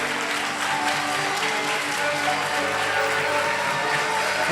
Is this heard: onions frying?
no